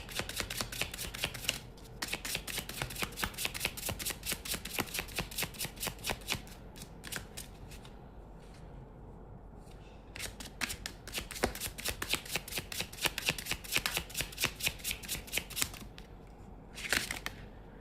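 Tarot cards are shuffled up close in rapid riffling bursts, a crisp papery flutter that pauses briefly and resumes several times, with no talking.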